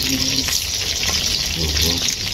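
Constant sizzling hiss of T-bone steak frying in a pan, close and fairly loud, with faint voices murmuring underneath.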